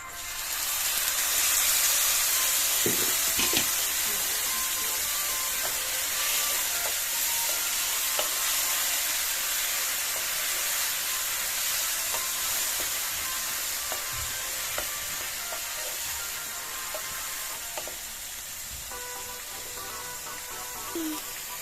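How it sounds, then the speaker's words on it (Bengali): Ginger, garlic and tomato chili paste hit sizzling fried onions in a pan for a Bengali fish curry, giving a steady, close frying hiss with occasional stirring scrapes throughout. "এরপরে আদা, রসুন আর টমেটো ঝাল পেস্ট করা দিয়ে দেব।"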